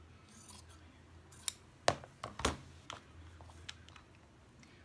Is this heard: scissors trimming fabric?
yes